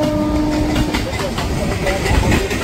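Tamralipta Express train crossing the Kolaghat bridge over the Rupnarayan river, a loud continuous rumbling roar with clattering wheels and a brief tonal whine early on.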